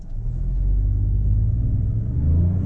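A Proton X50 SUV pulls away hard from a standstill in a drag race; a deep, steady engine rumble and roar is heard from inside the cabin, loud and continuous without talk.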